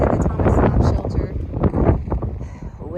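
Wind buffets the microphone on the misty summit of Mount Rogers along the Appalachian Trail, making loud gusting low rumbles that rise and fall, with a muffled voice partly mixed in.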